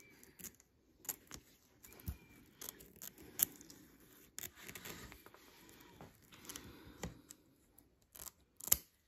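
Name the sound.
scissors cutting excess organza fabric around embroidery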